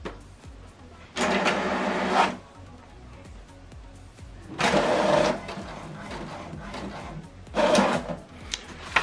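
HP Deskjet 2800 inkjet printer printing a page, three separate bursts of whirring, scraping paper-feed and print-head motion, each about a second long, with quiet mechanical pauses between them.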